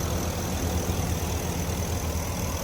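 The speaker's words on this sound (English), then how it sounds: "Successful repair. It's idling smooth and sounds really good." A Ford F-250/F-350 pickup's 6.2L engine idling smoothly after a misfire repair, a steady low rumble at constant pitch, close and uninterrupted.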